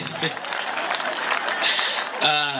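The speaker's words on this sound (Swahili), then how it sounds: "Muhurire makofi." An audience claps at a lively comedy event, a dense burst of applause lasting a couple of seconds with a voice rising over it near the end.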